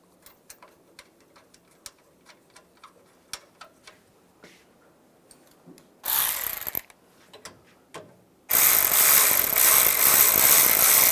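A ratchet snugs down radiator support bolts on a 2007-2013 Chevrolet Silverado, its quick clicking strokes close and fairly quiet in bursts, then giving way to a loud steady rushing noise near the end.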